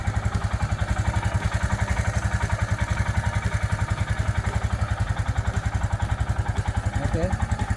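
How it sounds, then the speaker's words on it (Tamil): A 2021 Royal Enfield Himalayan BS6 motorcycle with a catalytic converter idles up close, its single-cylinder engine and exhaust thumping in a fast, even, loud pulse throughout, with a slight blip near the end. "இதுதான் Royal Enfield Himalayan 2021 BS6 sound"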